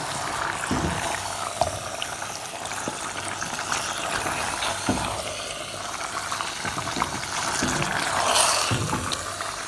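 Chicken handi masala stirred in a pot, giving a steady, close sizzling and bubbling wash with scattered soft scrapes and knocks of the spoon against the pot, continuous with no talking.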